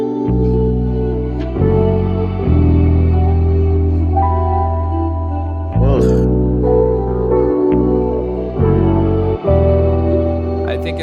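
Layered vocals treated with H-Delay echo and Valhalla Vintage Verb reverb, sung over a deep sustained bass and beat, with long smeared tails; steady and loud in the mix.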